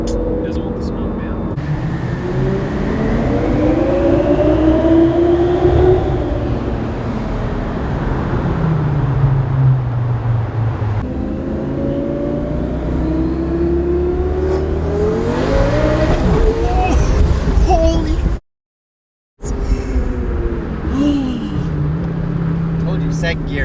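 A twin-turbo Lamborghini making about 1300 wheel horsepower, built for underground racing, accelerates hard in second gear, its engine note sweeping up and down loudly through repeated pulls, with people talking inside the car.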